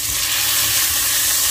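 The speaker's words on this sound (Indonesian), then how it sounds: "Kata ibu-ibu ditusuk kalau goreng cabe." Chili peppers frying in a pan while sambal is made give a steady, close hiss and crackle of hot oil, constant throughout with no talking.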